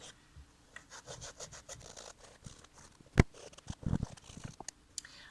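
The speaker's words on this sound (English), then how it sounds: "So I'm going to take the eraser and just do some spot work" An eraser scrubs a suede roller skate boot in quick, rasping strokes, close and fairly quiet, with a few sharper knocks along the way.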